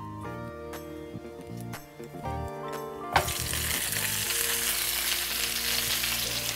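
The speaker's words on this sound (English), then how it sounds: "I'm going to take my zucchini, which is the last layer of the tart, and sauté these as well" Zucchini rounds sautéing in olive oil for a beef and potato fillo tart: quiet, calm moments with faint clinks and stirring, then a sudden loud, steady sizzle that goes on close by and unbroken to the end.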